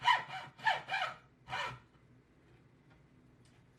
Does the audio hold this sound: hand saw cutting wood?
yes